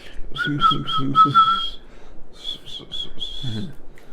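A person whistles a short, bouncy tune in two phrases of quick repeated notes, close and clear, with a low murmur underneath.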